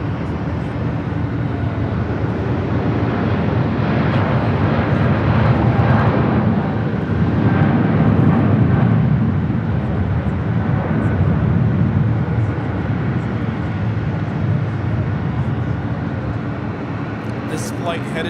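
An airliner takes off on runway 25 right at LAX, a steady loud jet roar that swells and fades over many seconds while a person talks over it.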